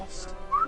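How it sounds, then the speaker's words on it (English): A person whistles a brief tuneless note that rises slightly in pitch, close and soft over faint room noise. "you were whistling after you had your go"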